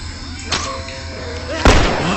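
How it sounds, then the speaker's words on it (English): A bomb blast from The Last of Us on PS3 lands as a sharp, loud boom near the end, with an earlier smaller thump and a low rumbling game background. "there's my first bomb"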